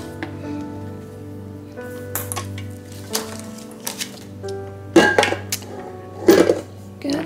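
Sweet potato pie filling being mixed in a bowl, with uneven clattering, scraping and squishy stirring sounds that grow louder and busier toward the end, close up.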